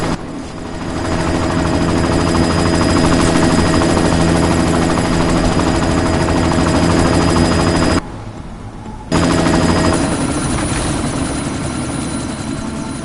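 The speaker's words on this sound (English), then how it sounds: "You've got to stop that chopper." A helicopter in the video game Deus Ex: Mankind Divided drones loudly and steadily with a close, humming rotor roar that cuts out briefly for about a second before resuming at full strength.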